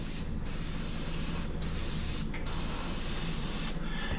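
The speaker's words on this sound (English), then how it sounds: "Then I'm going to come in with my airbrush." An airbrush sprays paint through mesh onto an RC car body in steady hissing bursts, broken by a few short pauses, close and fairly quiet.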